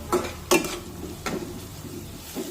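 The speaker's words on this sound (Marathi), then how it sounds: "कांदा आले लसूण पेस्ट व्यवस्थित तेलामध्ये परतून घ्यायची" Onion and ginger-garlic paste sauté in oil with a soft steady sizzle, broken by a few sharp scrapes and knocks of a spatula against the pan, close and without speech.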